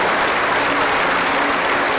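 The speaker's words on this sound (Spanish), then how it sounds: "Ahora se den un gran aplauso al Señor en esta mañana" A church congregation at a Sunday morning service gives a big round of applause to the Lord, dense continuous clapping filling the room, loud and steady throughout.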